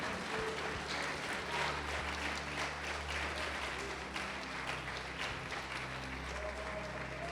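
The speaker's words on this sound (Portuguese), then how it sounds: "Pode aplaudi-lo e glorificá-lo." Church congregation applauding during a sermon, a steady, moderately distant wash of clapping lasting several seconds with a low hum of room noise beneath it.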